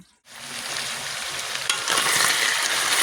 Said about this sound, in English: our hamburger meat is in the pot